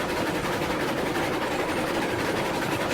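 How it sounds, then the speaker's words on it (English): Train running in the Railroads Online video game: a loud, steady broadband rumble and rattle of rolling stock holds constant for the whole stretch, with no talk over it. "Train is loud, bro."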